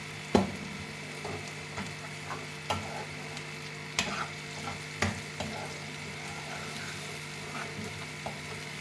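Ghee sizzles on a hot makki ki roti on the griddle, a soft continuous hiss broken by a handful of light taps and scrapes spaced a second or so apart.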